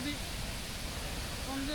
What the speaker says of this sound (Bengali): এটা পাহাড়ে ভেঙে পড়া পানির গর্জন। এটাই নাফাখুম।